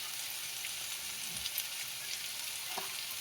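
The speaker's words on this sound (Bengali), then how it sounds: "সামান্য লঙ্কার গুঁড়ো দিয়ে ভালো করে কষিয়ে নেব।" Koi fish fries in a pan with turmeric, chili powder and spices, giving a soft, continuous sizzle with a few faint stirring scrapes and no talking.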